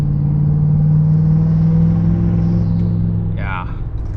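A lifted truck on 38-inch tires tows a heavy trailer up an 8% grade at about 8,000 feet, its engine holding a loud, steady, low drone that eases slightly near the end.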